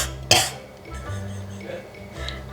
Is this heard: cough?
yes